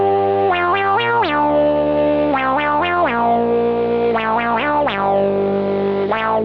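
An acid synth bassline fed through a band-pass filter box: loud, pulsing repeated notes with resonant, squelchy sweeps rising on many of them, playing alone.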